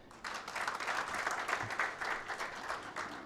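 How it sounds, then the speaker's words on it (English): Audience applause at a university summit, steady and dense clapping from a sizeable crowd that holds at an even level for the full stretch, with no speech over it. "let's clap louder."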